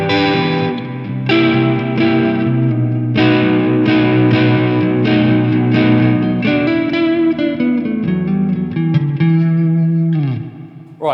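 An electric guitar riff plays loud and close through a Line 6 DT25 amp with distortion and reverb, chords struck in a rhythmic pattern and ringing out before a final decaying strum.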